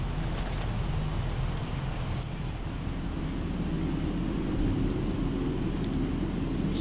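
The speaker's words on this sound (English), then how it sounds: "And it's raining, yes." Steady rain pours down in the zombie survival game Project Zomboid, a continuous broadband hiss holding at an even level throughout, with no voices over it.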